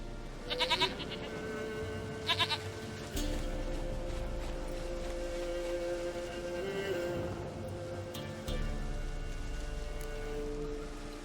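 A goat in The Witcher 3 video game gives a few loud, wavering bleats spaced across the stretch, heard against steady ambient noise that resembles rain.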